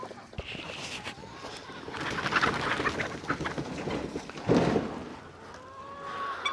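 Chickens on a farm being herded into moved houses during livestock rotation, with scattered soft clucks and coos amid rustling and movement noise, moderately close.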